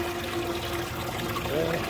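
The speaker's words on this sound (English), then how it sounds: "You just turn that, it drips on the ground, and you can put some ice in it." Water drains and trickles steadily from the drain valve of a car's water-injection tank, a continuous close splashing flow with a faint tonal hum underneath.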